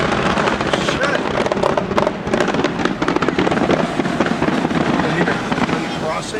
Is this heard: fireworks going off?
yes